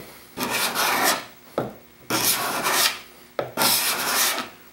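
A putty knife pressed into service as a scraper on wood, giving three long rasping strokes, each starting with a sharp bite and then scraping evenly, close up and alone.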